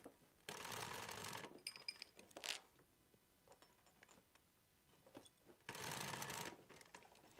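A sewing machine runs in two short bursts to stitch fabric strap loops closed around rectangle rings, each a rapid close whirring run of stitches separated by quiet handling noises.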